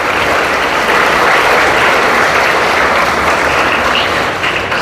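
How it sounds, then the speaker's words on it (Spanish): A church congregation at a Mass for All Souls' Day bursts into a loud, sustained round of applause, a thick, continuous wash of many clapping hands filling the space without letup. "les regalamos un fuerte aplauso hoy en este día"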